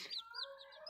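A hen and her chicks make soft, close clucking and high, thin peeping chirps, several overlapping calls in under a second, quiet and heard alone.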